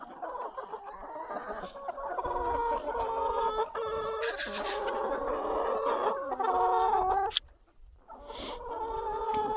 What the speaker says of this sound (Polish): Koguciory 3 są tutaj.